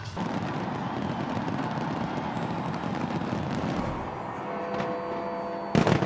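A dense, continuous rumble of booming New Year fireworks bursts at the London Eye rolls on for several seconds, loud and distant-sounding, ending with a sharper crackle.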